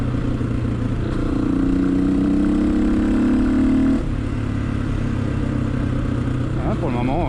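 A Honda XLR125R motorcycle with a newly fitted reinforced clutch, its engine held at steady revs for a few seconds then dropping back to a lower drone, close and continuous, with someone speaking over it.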